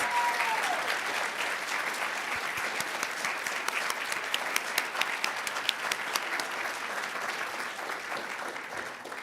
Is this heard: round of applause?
yes